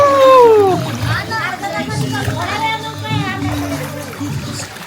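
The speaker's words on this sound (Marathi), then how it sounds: "तर आता पाण्यावर उडी मारली" Water splashes as people jump into a villa swimming pool during a family celebration, loud and close, with excited voices and children shouting over the splashing.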